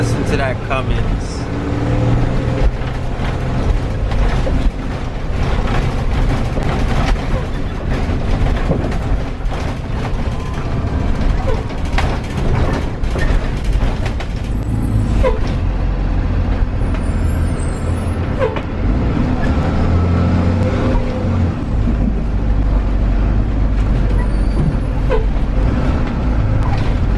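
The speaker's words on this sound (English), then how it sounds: "Listen to that Cummins." A bus's Cummins diesel engine rumbles loudly and steadily nearby, with hissing air-brake bursts and passing traffic mixed in.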